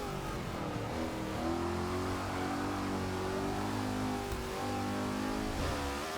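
NASCAR race car engine in Forza 6, a steady loud drone that drops in pitch as it downshifts, then climbs again, with no talk over it.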